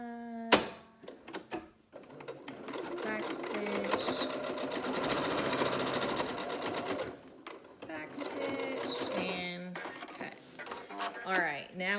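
A sewing machine back stitches a homemade fabric mask, running in a steady close whir with short starts and stops, while a person talks between the bursts.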